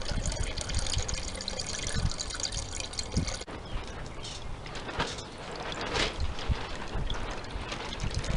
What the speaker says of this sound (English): add this measured water onto the nylon cloth bag